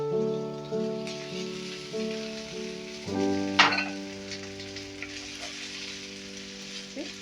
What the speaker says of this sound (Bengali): এবার এতে ভাতটা যে করে রেখেছি সেই ভাতটা এতে মিশিয়ে দেব